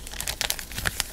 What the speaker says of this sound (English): Let me go ahead and open up the envelope